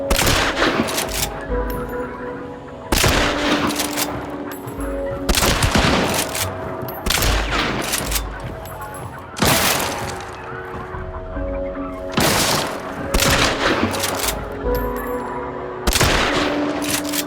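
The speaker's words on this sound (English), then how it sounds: "Just then, I took a bullet. I got shot." Gunfire in the Hunt: Showdown video game, with loud bursts of shots repeating about every two seconds, each followed by echoing tails.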